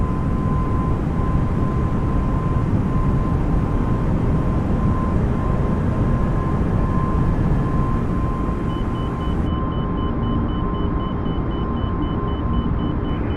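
Airbus A320 in Microsoft Flight Simulator taking off from Cleveland and retracting its landing gear, a loud steady broadband engine roar with a constant tonal whine throughout, continuing alone without talk.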